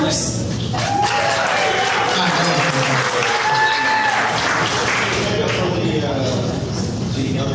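An audience at a pitch night applauds loudly and steadily, with voices and some laughter heard over the clapping throughout.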